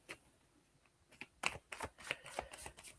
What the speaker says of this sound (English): Monique, let me focus on you and pull you some cards.